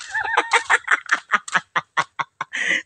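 A chicken clucks in a rapid series of short, nasal calls, close and loud, ending with a longer squawk.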